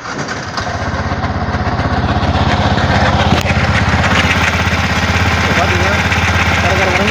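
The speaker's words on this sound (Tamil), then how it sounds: "இன்ஜின் நாய்ஸ் எப்படி இருக்குன்னு பார்க்கலாம்." A Yamaha R15 V3 motorcycle engine idles close to the microphone, a loud, steady, rapidly pulsing rumble with a faint metallic ticking laid over it and continuing without a break.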